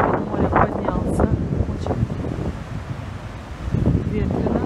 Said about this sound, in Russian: Очень ветрено.